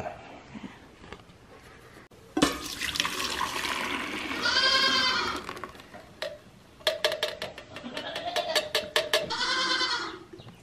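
A Nigerian Dwarf goat bleats loudly several times in drawn-out, wavering cries, mixed with splashing and clattering from milking nearby.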